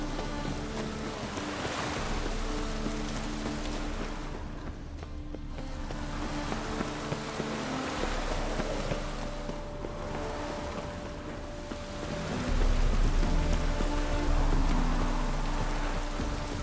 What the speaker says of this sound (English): Even the rain smells like precious.